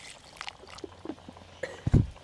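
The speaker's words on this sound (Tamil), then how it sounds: "தண்ணி கொஞ்சம் ஊற்றிக்கலாம்." Water poured in a few short splashes and trickles into grated coconut while making coconut milk for moong dal payasam, close and fairly quiet, with a louder splash at the end.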